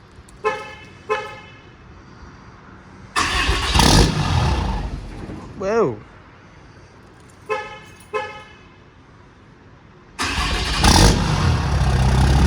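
A 6.7 Cummins diesel truck engine with an S366 turbo and 5-inch exhaust cranks and catches in several short bursts separated by pauses on first startup, then settles into a loud, rough run; a person briefly exclaims.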